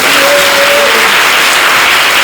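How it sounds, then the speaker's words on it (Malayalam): An audience at a religious festival gathering claps together in a loud, dense, continuous burst of applause, filling the whole stretch without pause. "എല്ലാം ഉന്നതമായി നടത്തുവാൻ തീരുമാനവും ഉറപ്പുമുള്ള എന്റെ സന്താനങ്ങളൊന്ന് കൈയടിച്ചു കേട്ടാക്കൊള്ളാം"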